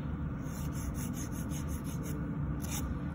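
A file rasps steadily against a natural fingernail, shaping it into a soft oval with continuous close, fine scratchy strokes and no talking.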